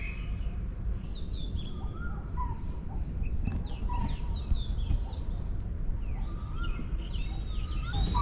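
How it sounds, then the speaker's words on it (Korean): Many birds chirp and call at once at dawn near a temple in Ayutthaya, Thailand, over a steady low background rumble, a dense outdoor chorus with no talking. "새소리만 가득하네요"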